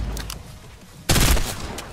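Gunfire in the Fortnite video game: after a quieter stretch, a sudden loud burst of rapid shots starts about halfway through and keeps going to the end.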